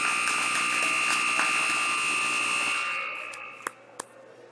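Period-ending buzzer at a U12 youth ice hockey game in an arena, a loud sustained electronic tone lasting about three seconds before cutting off, followed by two sharp knocks.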